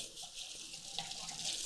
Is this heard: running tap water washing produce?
yes